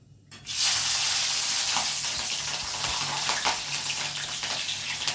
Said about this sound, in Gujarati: તો આમાં મરચાં તળું છું.